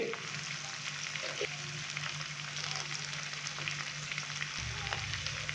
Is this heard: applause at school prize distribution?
no